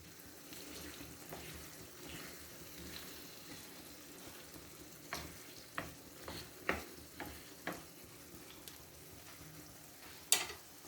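Aloo anday salan, a potato and egg curry, is stirred in a frying pan: a soft sizzle broken mid-way by a run of sharp spoon scrapes and knocks, with no talking.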